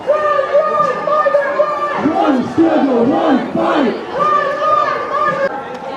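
A loud, dense crowd at a street protest, with shouting and chanting voices rising and falling together in waves and steady babble underneath throughout.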